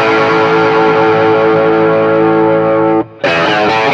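A heavily distorted electric guitar through a Wampler Terraform pedal sustains a thick, buzzing chord, cut off briefly by a short silence before ringing out again.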